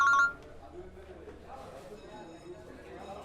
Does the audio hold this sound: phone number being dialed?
yes